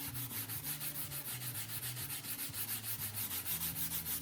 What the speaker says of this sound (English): I'm going to take some 4/0 steel wool, and we're going to gently rub this down.